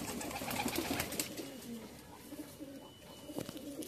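A new Panja pigeon at a breeder's lofts lets out low, rolling coos that carry on steadily and fairly close, with other birds faintly around.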